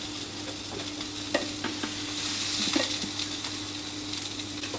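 Lamb sears in a non-stick pan with smoked butter and no added oil, giving a quiet, even sizzle with scattered light taps and scrapes of stirring, close but faint.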